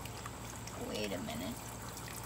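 Water pouring and overflowing from a hose or spigot while water balloons are filled outdoors, a quiet continuous splashing trickle with a brief rise in the middle.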